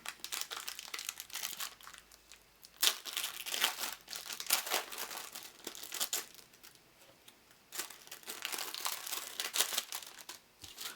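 A foil pack of 1992 Elvis trading cards is torn open and handled up close, bursts of crinkling, crackling foil and tearing come in uneven waves with brief quiet gaps.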